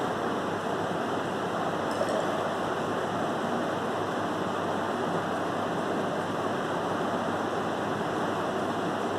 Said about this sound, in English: I will take another test tube or another measuring cylinder, and I will pour the solution